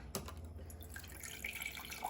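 Tap water runs steadily into a measuring cup in a home kitchen while preparing a healthy family meal, a close, continuous splashing stream lasting about two seconds with no talking.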